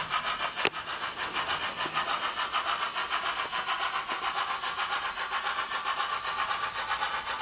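An OO gauge 2-6-2T tank locomotive model running on a Soundtraxx Econami decoder gives off a quick, rhythmic steam chuffing with a steady pulsing beat and a sharp click near the start, fairly faint and heard alone.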